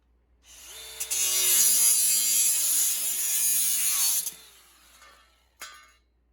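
A DeWalt DCG413 20V cordless angle grinder spins up and cuts for about three seconds, a loud high whining grind with shifting pitch, then winds down, followed by a short sharp clatter near the end.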